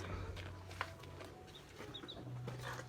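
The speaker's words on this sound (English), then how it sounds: "there is the other hen with her chicks, and she has 7 chicks" A hen with seven chicks on a ranch in Oaxaca, Mexico, gives soft, low clucks amid faint chick peeps, with steady outdoor background noise throughout.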